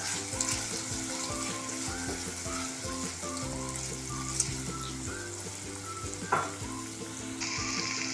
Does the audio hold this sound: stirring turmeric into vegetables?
yes